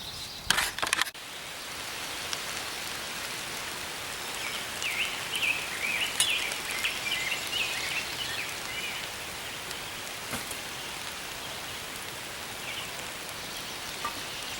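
Steady rain falls outdoors at a wilderness survival camp, a continuous close hiss of drops on surfaces after a few brief knocks at the start, with no voices.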